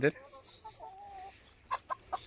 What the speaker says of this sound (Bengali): এই যে ডিমের মুরগিগুলো